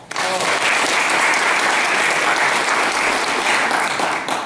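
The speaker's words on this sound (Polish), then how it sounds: "Tym bardziej brawa" Sustained, dense applause from an audience at an award ceremony announcing results of a space knowledge competition, loud and steady for the whole stretch with no talk over it.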